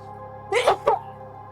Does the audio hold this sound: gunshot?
no